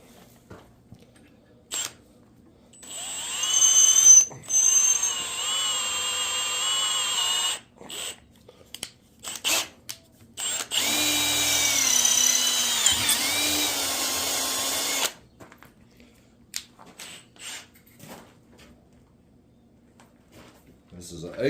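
A hand drill with worn bits bores into metal held in a vise, grinding in several bursts of varying length, the longest run lasting about five seconds, with quiet pauses between.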